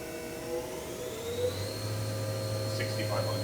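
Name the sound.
Hyundai-WIA vertical machining center spindle at 4,000 RPM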